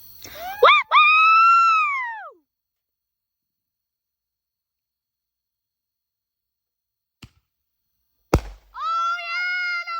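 Black Cat Party Pack fireworks at a Fourth of July show: whistling rockets screech with rising and falling tones, followed by sharp pops and another shrill whistle after a long quiet gap.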